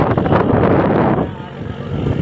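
Rough sea and strong wind heard from a boat out at sea in bad weather, a loud, close roar of buffeting wind and rushing water that eases slightly midway.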